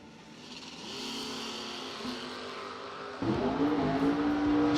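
A Chevrolet S10 drag racing truck at a door slammer drag race, its engine revving and accelerating hard, the roar building and jumping louder near the end, with no talk over it.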